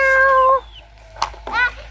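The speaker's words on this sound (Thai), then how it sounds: "แมว" A children's toy plays a recorded cat meow: a bright, tonal mew up close, then a click and a second short meow, fairly loud in a quiet room.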